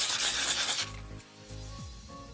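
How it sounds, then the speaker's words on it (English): Grit paper rubs by hand over a tumbler in a short, loud, scratchy burst that stops abruptly, leaving a low steady hum. "all of that grit paper left over and all the little sanding"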